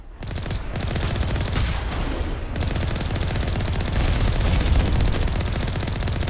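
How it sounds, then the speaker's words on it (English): Sustained rapid weapon fire in Mass Effect, dense crackling automatic bursts over a heavy low rumble, loud and continuous with brief surges, no talk. "Gotta make sure I don't keep shooting too much because the weapons overheat"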